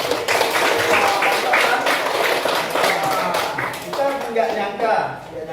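A room full of people clapping steadily for several seconds, dense and fairly loud, with voices mixed into the applause.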